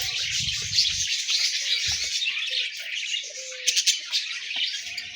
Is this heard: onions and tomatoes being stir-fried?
no